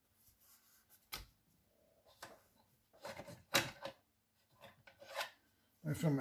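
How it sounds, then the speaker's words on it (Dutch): A bone folder rubbed over folded paper during a papercraft butterfly build, giving several short dry rasping scrapes in separate strokes, close and fairly quiet. "Even met het vouwbeen eroverheen."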